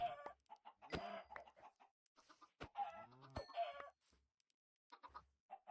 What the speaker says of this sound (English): Now I will kill chickens.